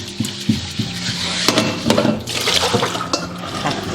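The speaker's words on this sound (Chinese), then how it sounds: "接着我们关火就可以清洗了" Water splashes and swirls in a pot being rinsed clean after cooking sugar-coated fried taro, with a steady stream of sloshing and scrubbing close by and occasional clinks of the pot, no talking.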